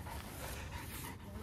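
A dog pants and whimpers close by in a short, quiet burst, breathy and muffled, with faint background noise.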